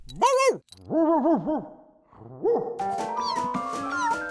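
A dog whimpers and yips in a series of high, rising cries, then a longer whining bark trails off into sustained whines.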